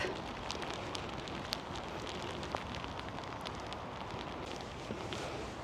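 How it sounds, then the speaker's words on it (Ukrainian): Steady, dense rain hissing without a break, with scattered sharper drops pattering on nearby surfaces; no one speaks. "Дощик посилюється."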